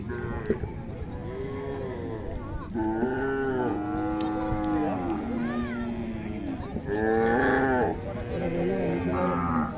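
Several Sahiwal and Holstein Friesian cattle moo loudly and repeatedly, overlapping one another at a crowded cattle show, with murmured voices underneath.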